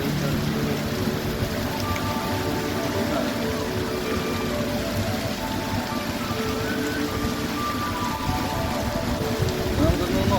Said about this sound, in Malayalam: മഴയുടെ ഓരോ തുള്ളികൾ മഴ ഉണ്ട്